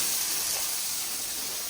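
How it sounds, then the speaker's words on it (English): Chicken burgers sizzle on a coal pot in a Trinidad-style backyard cookout, a loud, dense, steady hiss filling the whole moment. "Look at that sizzle, man."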